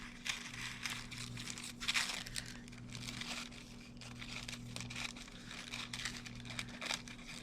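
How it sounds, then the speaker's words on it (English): Scissors cutting out the paper letters of a Moroccan tile style kitchen sign, giving soft, continuous crinkling and snipping close by, with no talk, over a steady low hum. "So I'm going to cut it as close to the letters as I can."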